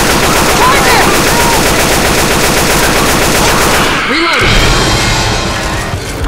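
Dense, loud automatic gunfire in the video game Left 4 Dead 2, a continuous rattling stream of shots up close, with voices shouting briefly in the middle.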